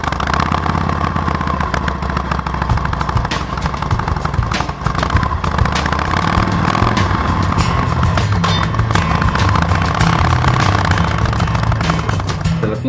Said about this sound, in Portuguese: Legal do dia é quando eu subo na moto e tenho que desbravar a cidade.